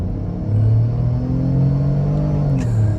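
The 2021 Ford Bronco Sport's 1.5-liter three-cylinder engine in sport mode drones and rises in a low, steady rumble heard from inside the car, building as it accelerates with a brief shift dip.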